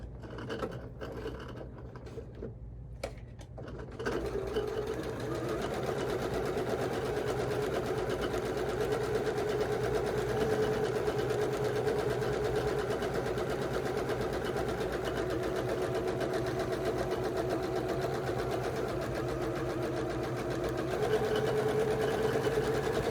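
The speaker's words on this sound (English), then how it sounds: "So we're going to go ahead and sew this and we'll be done." Sewing machine stitching a straight seam on a pillowcase, starting after a few seconds of quiet handling and then running as a steady, close, even whir to the end.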